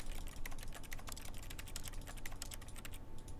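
Keyboard typing in The Stanley Parable, a quiet, rapid run of clicking keystrokes in an irregular rhythm, faint and alone over a low hum.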